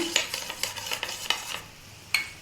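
Rasgulla syrup being stirred in a pot, with a series of light spoon scrapes and taps against the metal at a steady rhythm, close and fairly quiet.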